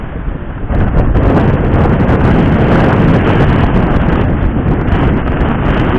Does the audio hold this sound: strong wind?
yes